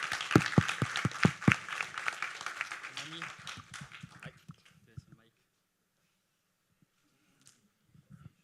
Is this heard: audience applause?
yes